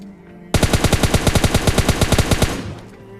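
Rapid automatic gunfire from the PUBG Lite video game: a sudden burst of about twenty evenly spaced sharp shots lasting two seconds, loud and close, then fading into quiet.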